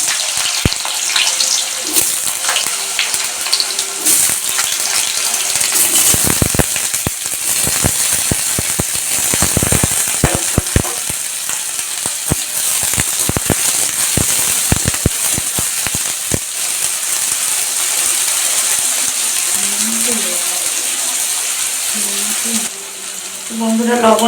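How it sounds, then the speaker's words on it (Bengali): Potatoes frying in hot oil for a Bengali-style lettuce sabji give a dense, steady sizzle throughout, with a sharp crackling burst near the middle. Occasional clinks from a pan or utensil punctuate the sizzle. "আমি আলুগুলো ভেজে নেব।"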